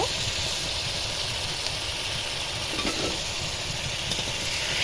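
Chopped tomato and gram flour sizzle and stir-fry in a hot pan for a pea ghugni, a steady, dense crackle that runs close and continuous throughout.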